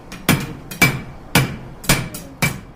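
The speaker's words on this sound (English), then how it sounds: "takes a hammer and pounds the metal down on an anvil" A blacksmith hammers red-hot metal on an anvil at a steady forging pace, each blow landing as a sharp, ringing metallic strike with a faint bright ring, about five blows spaced roughly half a second apart.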